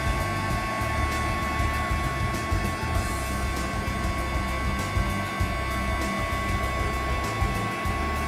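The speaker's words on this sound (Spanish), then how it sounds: "Es una pistola de calor. Agiliza rápido el secado." A heat gun drying a handmade craft piece in a workshop, a constant loud whooshing roar of blown hot air with a steady tonal whine, unbroken for the whole stretch.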